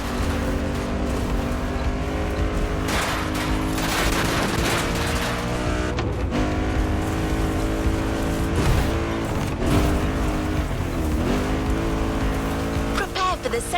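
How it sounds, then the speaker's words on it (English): The Mustang Boss 429 muscle car in The Crew Motorfest racing game, a continuous engine drone with shifting revs and occasional sharp bursts and tire noise, loud throughout, with some speech mixed in. "There's an absolute classic heading your way, a grail among collectors and Jim's greatest pride, the Mustang Boss 429"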